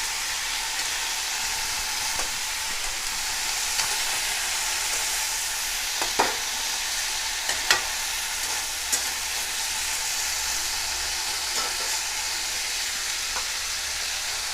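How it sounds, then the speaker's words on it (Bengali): Spinach and other chopped vegetables stirred in a frying pan for a vegetarian Bengali palong shaker ghanta, with a steady close sizzle and hiss and occasional light clicks of the spoon against the pan. "এটা দিয়ে ভালো করে নেড়ে চেড়ে"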